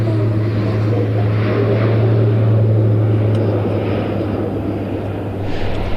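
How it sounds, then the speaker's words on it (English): An Airbus A400M Atlas military transport flies a display at an airshow, its turboprop engines producing a loud, sustained droning roar with a steady low hum that holds level throughout. "this display showcasing the excellent manoeuvrability of the A400M, known as the Atlas to the RAF"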